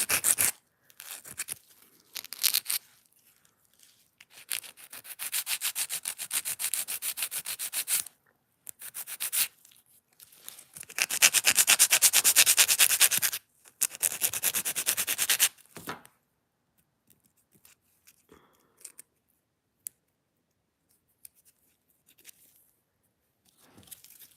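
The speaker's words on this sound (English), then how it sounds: "Going in on my middle finger. I'm going to be filing." An acrylic nail on a middle finger is worked with a nail file, giving close, dry rasping strokes in several sustained bursts separated by quiet pauses, with no talking.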